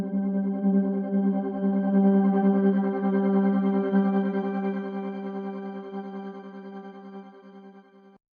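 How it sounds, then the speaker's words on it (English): Sustained tonal music passed through a modular multi-effect plugin in a Nuendo mix, giving a swirling, chorus-like, echoing wash with heavy processing; a steady drone that slowly fades, with no voices. "I used another stock plugin from Nuendo FX Modulator, a powerful modular multi-effect."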